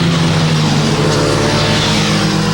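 Sport bike engines roaring on a public mountain road, a loud, dense, continuous engine roar with no talking over it.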